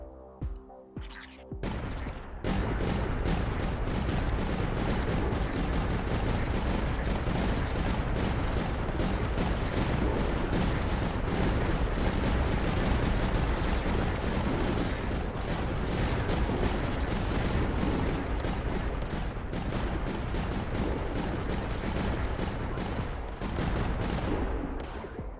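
Dense, continuous barrage of blasts and rapid firing from a mine launcher in an indie tower defense game, loud and unbroken for over twenty seconds after a brief quieter start.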